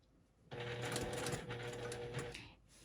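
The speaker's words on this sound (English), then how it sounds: "So I'll stitch a few forward and back stitch." Sewing machine stitching forward and back on a quilt block, heard as a fast, steady mechanical whirring burst lasting about two seconds, close up, with no talk.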